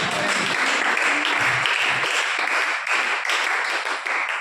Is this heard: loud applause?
yes